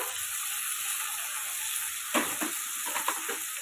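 Ginger-garlic paste and ground coriander-cumin stirred in a hot pan for a prawn curry, a continuous close sizzle with a few scraping strokes near the end.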